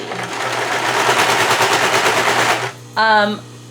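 An industrial sewing machine runs close and loud in one rapid continuous burst for about two and a half seconds, then stops, and a short voice follows.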